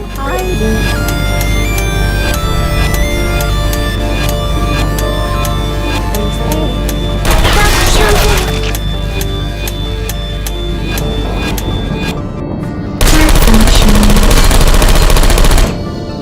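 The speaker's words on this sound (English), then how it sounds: "This next test involves turrets." Automated turrets in the video game Portal 2 open fire, a loud sustained rattle of rapid gunshots layered over steady game music, with two denser bursts of fire standing out, no voices over it.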